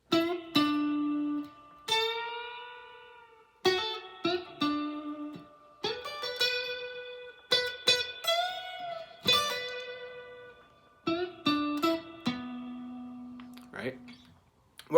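Guitar solo played at a relaxed, slow pace, clean single notes with bends and slides in short phrases separated by brief pauses, close and clear with no talking.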